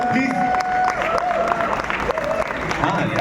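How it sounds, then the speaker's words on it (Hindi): An audience claps and cheers at a film event, loud mixed applause and shouts rolling continuously while voices talk over it and tonal music or whistles weave through the noise. "एक बार जोरदार तालियां सर प्लीज"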